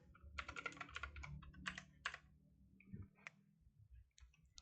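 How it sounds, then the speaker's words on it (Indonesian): Typing on a computer keyboard, irregular bursts of quick clicking keystrokes with short pauses between them, close and quiet, with no talk. "Di sini saya akan mengetik terlebih dahulu."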